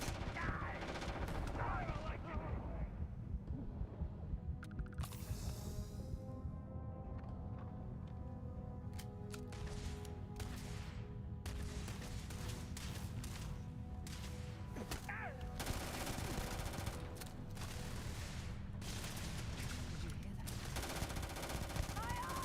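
Video game gunfire from heavy weapons, dense bursts of rapid automatic fire and single loud shots spread across the stretch, with mechanical clicks between volleys and talking over parts of it.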